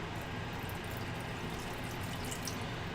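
Water poured from a container into a mushroom stew mixture during home cooking, a steady continuous splashing and trickling flow that stays even and fairly loud for the whole stretch, heard alone without talk.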